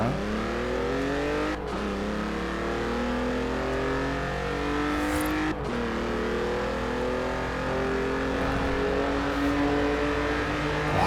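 A BMW i8 Roadster engine drones steadily while driving on a snowy road in Forza Horizon 4, with rising and falling revs and two brief gear-shift dips, loud and continuous with no talk.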